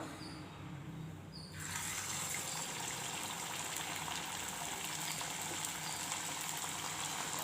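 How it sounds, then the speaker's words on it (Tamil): Sweets deep-frying in hot oil give off a steady, dense bubbling hiss that swells noticeably after a moment and then holds constant and fairly soft throughout. "இப்போ நம்ம எண்ணெயில் போட்டு பொறிச்சு எடுக்க வேண்டியது தாங்க"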